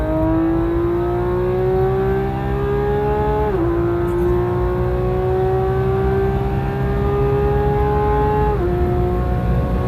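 A Porsche GT3RS with a ported throttle body pulls hard from third gear, heard close and loud: the engine note climbs steadily, dips sharply at an upshift, then climbs again before a second shift.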